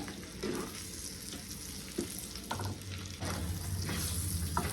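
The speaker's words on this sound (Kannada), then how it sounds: "ಇದು ಚೆನ್ನಾಗ ಫ್ರೈ ಆಗ್ತದೆ" Egg curry masala fries in a pan with a steady low sizzle, and a few soft stirring scrapes rise above it. The sizzle grows slightly fuller near the end, with no talking.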